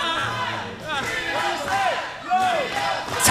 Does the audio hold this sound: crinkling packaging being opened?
no